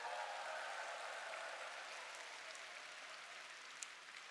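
Seminar audience applause, a steady, hissing wash of many hands clapping together, heard at some distance and fairly quiet, holding evenly throughout.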